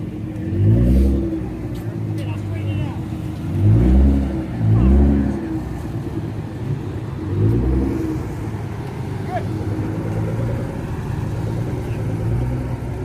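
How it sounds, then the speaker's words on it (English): A Heritage Edition Ford GT40 with an aftermarket, non-stock exhaust rumbles nearby, its deep engine note swelling in several low throaty surges before settling into a steady idle burble under faint background voices. "that is not stock exhaust. Because I can hear the rumble on that."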